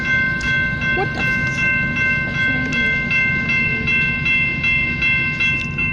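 A very long train rolls past in Stockton, California, giving a loud, continuous rumble with steady ringing metallic squeal tones and scattered wheel clicks for the whole stretch.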